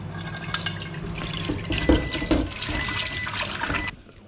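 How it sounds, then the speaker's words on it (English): A pan is given a quick rinse under a running kitchen tap between cooking steps, water splashing and gurgling steadily close by for a few seconds before cutting off. "I am just going to give this a quick rinse."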